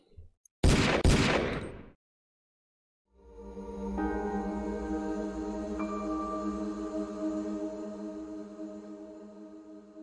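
Gunshot in the Deeeer Simulator video game: a loud, close sharp blast with a brief ringing tail, followed by silence and then a steady ambient game background.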